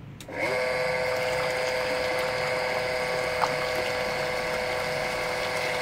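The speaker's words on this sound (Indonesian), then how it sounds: "Kita nyalakan pompa sekarang." Electric water pump switched on and running, with a click at the start followed by a loud, steady mechanical hum and whine that holds constant, plus one small knock partway through.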